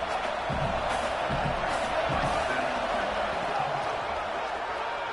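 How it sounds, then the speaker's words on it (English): A home crowd at a football game roars as a steady, dense wall of noise for the whole stretch, with a commentator talking over it. "Man, this crowd really affecting the football game."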